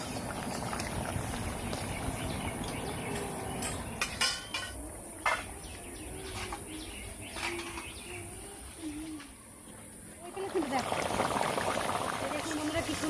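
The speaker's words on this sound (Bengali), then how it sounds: "এবার একটু ফুটিয়ে নেবো।" Egg and red lentil curry simmering in a pot, a soft bubbling under steady background noise, with brief bird calls and cooing nearby.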